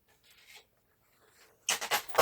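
A paper trimmer slices through paper in a craft setting, giving a short, close, loud rasping cut after a stretch of faint shuffling.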